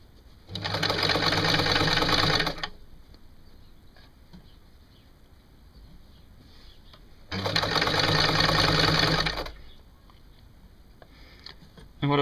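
A sewing machine stitches a T-shirt seam in two steady bursts of rapid, even needle clatter, each lasting about two seconds, with quiet handling in between.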